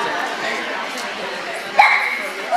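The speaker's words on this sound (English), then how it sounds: "There's Charlie with his pretty dog." At a dog show, a dog gives a short yip or bark partway through, heard under a nearby person talking over steady hall noise.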